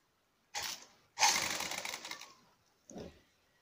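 A sewing machine stitches thread piping in a few short bursts: a brief run, a longer steady whirring run, then a quick final stitch, close by and with no talk.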